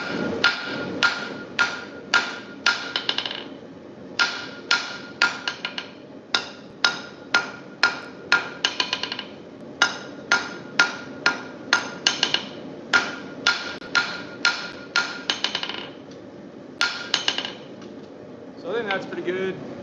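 A hammer strikes 3/4 mild steel while V-bit tongs are forged, ringing in quick bursts of blows with short pauses between, loud, close and clear, ending with faint shuffling.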